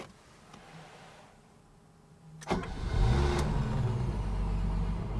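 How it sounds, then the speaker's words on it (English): A classic Mercedes-Benz 280 SL Pagoda inline-six cranks and catches after a quiet start, then settles into a steady, loud idle close by. "and let's start the engine."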